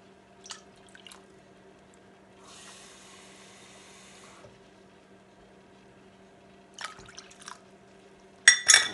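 Water poured from a cup into a pot while making cathedral jello, a soft steady splashing pour lasting about two seconds, framed by brief clinks and taps of utensils and containers.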